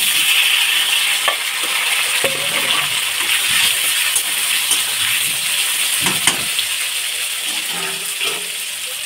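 Steamed potatoes frying in hot oil, added after cumin seeds and bay leaf are tempered, give a steady close sizzle with a few faint stirring clinks throughout.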